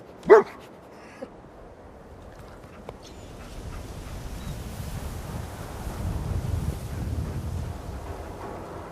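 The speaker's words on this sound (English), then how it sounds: "He's a dog." A single close dog bark from the Fallout 4 companion dog, sharp and short at the very start, followed by a faint second yip and then a bed of outdoor wind-like ambience that swells gradually.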